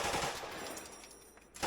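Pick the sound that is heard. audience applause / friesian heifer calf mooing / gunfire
gunfire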